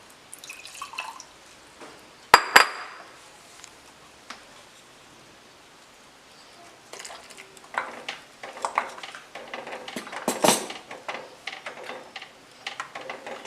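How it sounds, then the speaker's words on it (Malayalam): Water poured into a pot of Kerala-style taro curry, heard as a sharp splash around two seconds in, then scattered drips and bubbling spatter from the pot later on, with no talking. "ഒരല്പം വെള്ളം കൂടി ഒഴിച്ച് കൊടുക്കാം."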